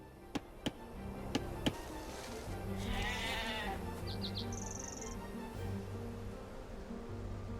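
Sheep bleat in the Age of Empires II: Definitive Edition video game. One bleat stands out clearly mid-clip among a few sharp clicks and soft ambient game sounds.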